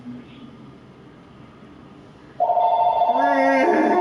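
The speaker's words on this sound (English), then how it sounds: "Phone's ringing." A phone rings in Marvel's Spider-Man, its bright electronic ringtone starting loud and sudden partway through after a quiet stretch, then continuing steadily to the end.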